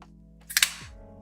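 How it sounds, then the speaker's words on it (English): A beverage can cracks open in one quick, crisp snap and short hiss, close to the mic in an otherwise quiet room. "Figured I'd save the can cracking ASMR for y'all."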